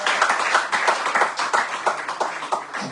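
A church congregation claps together in steady, dense applause that stays loud for a few seconds, then gradually thins.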